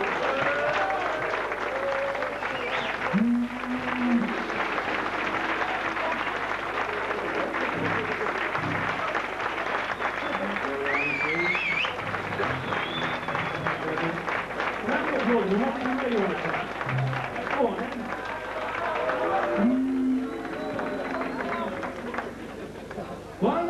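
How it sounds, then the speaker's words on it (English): An audience at a military recruit training event applauds steadily and loudly throughout, a dense wash of clapping mixed with crowd chatter, voices and occasional whistles. "Right, you're going to applaud it, come on"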